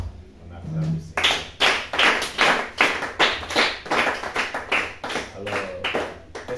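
A church congregation claps in steady rhythm to acclaim the Lord, a dense run of close, loud claps.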